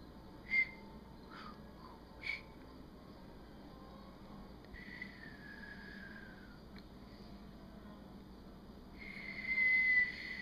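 A person whistles a few short notes, then longer sustained tones, fairly faint over a quiet background hum.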